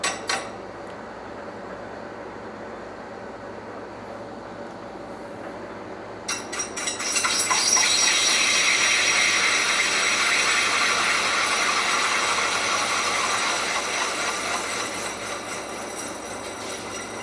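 Manual metal lathe cutting a shaft for etching press rollers, workpiece clamped close to the chuck; a quiet motor hum, then a bright steady hissing cut that starts partway through and tapers off near the end.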